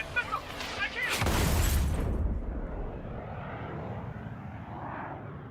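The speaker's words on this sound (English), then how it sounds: "The approaching Osean aircraft." A military jet in the Ace Combat 7 video game roars past loudly, with a rushing engine burst that swells and fades into a steady low rumble, while voices speak over it.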